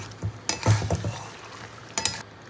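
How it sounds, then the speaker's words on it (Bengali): Meat cooks with spice paste in a pan, with intermittent stirring scrapes and clatters over a soft background sizzle, louder bursts near the start and end. "মাংসের সঙ্গে মশলাটাকে খুব ভালো করে কষিয়ে নেব।"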